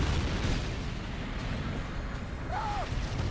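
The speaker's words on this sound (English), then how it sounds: "here are the Abrams tanks attacking the construction yard, and in fact Abrams do also have little napalm mortars" Abrams tanks firing napalm mortars at a construction yard in a real-time strategy video game, a dense continuous rumble of explosions and booms at steady loudness, with a brief whistling sweep near the end.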